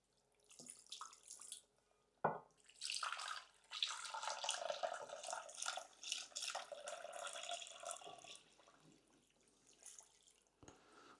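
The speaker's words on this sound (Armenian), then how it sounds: "Ու մեզ հարկավոր է ջուր ավելացնել։" Water pours from a tap into a pot over oxtail pieces for khashlama, a faint steady splashing rush after a few soft knocks, close but quiet.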